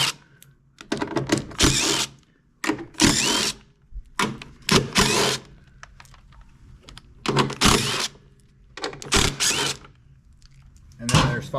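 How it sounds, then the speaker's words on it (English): Bolts on the cover of a Simplicity Briggs & Stratton snow blower being worked loose with 10mm and 5/16 wrenches, giving repeated bursts of sharp metallic clicking and ratcheting separated by short pauses, close up. "You'll need a couple wrenches and then some 10mm and 5/16 to get the bolts around the edge out of here."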